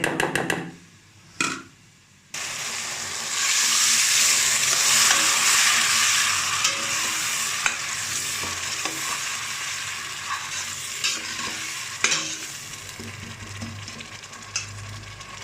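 Onions and garlic stir-fried in hot oil for a chicken curry give a loud, continuous close-up sizzle, broken by a few brief pauses at the start. Repeated scraping strokes of a spatula against the pan run through it, with no talking.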